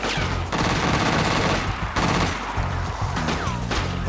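Gunfire aimed at a van's wheels in The Getaway, loud rapid bursts of automatic shots packed into a dense, unbroken barrage over several seconds with a few brief dips, no talking.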